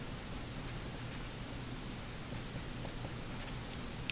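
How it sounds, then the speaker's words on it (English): Pen or marker writing out a math equation by hand on a board or paper, a faint, steady scratching with soft strokes and small taps, no voices. "So let me write down equation number 4 again."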